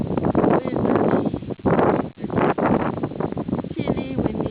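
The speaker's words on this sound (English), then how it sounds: "Chilly, windy, blowy." Blizzard wind on Mt Washington roars against the microphone in loud gusting buffets, with brief lulls between heavy blasts, and snow falling outdoors.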